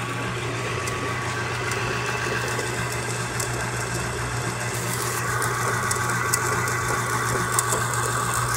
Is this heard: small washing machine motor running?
yes